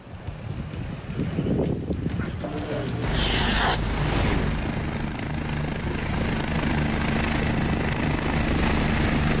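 Police helicopter in the French Alps during a skier rescue, its loud steady rotor chop and engine drone filling the air up close without pause.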